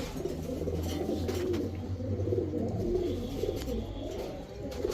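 A pair of black-necked pigeons coo softly and continuously in low, rolling calls, close and alone with a faint background hiss.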